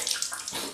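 Water splashes and trickles close by as a face is wetted for a wet shave at a sink, a continuous bright wash with small surges and no speech.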